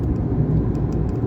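Continuous low rumble of road traffic in Delhi, engines droning steadily and close, with no voices.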